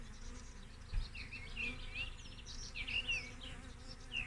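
Honey bees buzzing during a hive inspection with smoke, a continuous low drone from the colony close by, with faint higher flickers over the steady hum and no speech.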